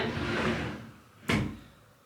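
A cabinet drawer in a baby's room slides open or shut with one quick wooden knock, set against a soft rumbling background of room noise.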